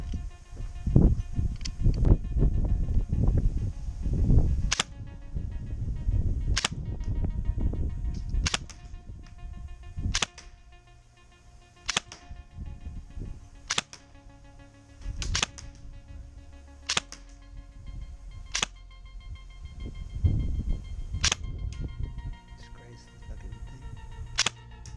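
Specna Arms SA-H20 airsoft rifle, an HK416-style electric gun on a 7.4 volt LiPo battery, firing 0.25 gram BBs in a string of sharp, clicky single shots at irregular intervals, alongside low rumbling handling noise.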